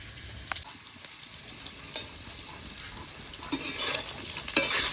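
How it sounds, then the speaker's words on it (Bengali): Potatoes frying in oil for a thin meat curry, a dense bubbling sizzle with intermittent stirring scrapes and clinks, close and steady, growing slightly louder toward the end. "আলুটা লাল লাল করে ভেজে নিয়েছি"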